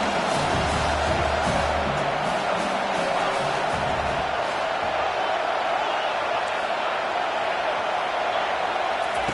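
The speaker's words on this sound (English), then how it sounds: "The crowd elevating its energy, willing this defense to get a stop on this big third down." A stadium crowd at a college football game rises in noise before a big third down, a dense, loud sustained roar with a broadcast commentator talking over it.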